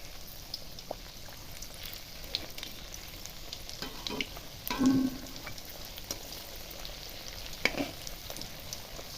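Crispy egg snacks frying in lightly heated oil, a steady soft crackling sizzle throughout with a few louder pops and bubbling bursts, heard alone without any talking.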